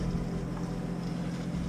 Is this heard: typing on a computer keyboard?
no